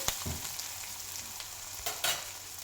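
Green chillies fry in a pan for a broccoli side dish, giving a steady close sizzle with a few sharp spatters and stirring clicks.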